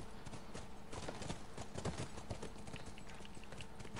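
Steady clip-clop of horse hooves in the video game Grounded at a quick, even rhythm, continuous and fairly close, with no voices over it.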